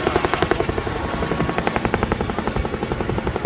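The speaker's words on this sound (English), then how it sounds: "This brings us to the end of the Royal Air Force Chinook display." A Royal Air Force Chinook twin-rotor helicopter flies a display at an armed forces day event, its loud rhythmic blade thumping pulsing rapidly and steadily overhead.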